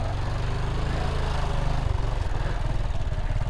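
A small motorcycle engine runs close and loud, a steady low throbbing idle with a quick pulsing beat and a slight shift in rhythm partway through. There is no talk over it.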